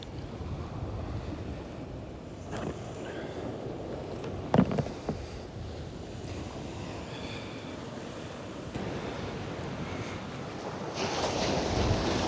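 Easterly wind gusting across the seashore at Bexhill, steady broadband rush with surf washing in beneath, constant and moderately loud, growing stronger toward the end with a few brief knocks midway.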